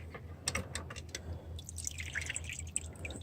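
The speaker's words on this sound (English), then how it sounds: "a little swirling and swishing, and you can kind of tell when it's about like it should be" A rusty steel trap is swirled and swished through a bath of primer liquid during trap dipping, giving quiet splashing drips and soft liquid sloshing, with a few sharper drops early on.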